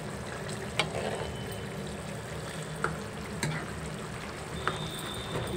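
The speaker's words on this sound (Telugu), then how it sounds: "కూర అయితే ఇలా ఉడుకుతుంది చూడండి." A curry of eggs with tamarind leaves bubbles and sizzles steadily in a pan, low and close. Occasional clicks of a spoon against the pan break through, with no voices.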